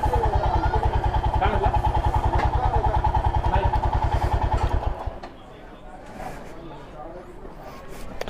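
A motorcycle engine runs loud and close with a steady rapid idle throb for about five seconds, then cuts off, leaving quieter background noise after a bike is parked near a sugarcane juice stall in Maharashtra.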